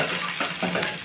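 Moong paneer is stirred and lightly fried in a pan, with a soft sizzle and a couple of faint scraping strokes over about a second.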